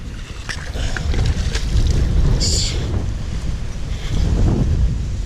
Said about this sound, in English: Seriously though, they kind of are really gale force winds.